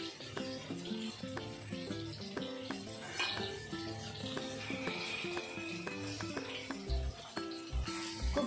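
Fish frying in a pan in a Mumbai home kitchen during dinner cooking of matar pulao, with a faint, steady sizzle under background music and a few soft clinks of utensils.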